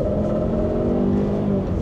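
A Land Rover accelerating, with a suspected driveshaft-guard vibration, gives a steady, close, low rumbling drone that holds evenly for the whole short stretch with no voices.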